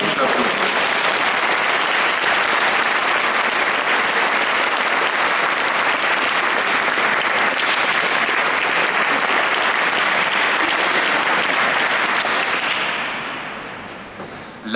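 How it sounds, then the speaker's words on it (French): A conference audience gives a loud, dense round of applause to welcome Father Guy Gilbert. The applause stays full and sustained for about twelve seconds, then fades away. "On peut vous applaudir."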